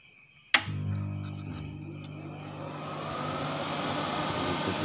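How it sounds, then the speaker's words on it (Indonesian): Cooling fan of a homemade power amplifier built with a 25 A transformer, starting with an abrupt click and then a steady whirring hum that holds at moderate level. "Itu kipasnya begitu."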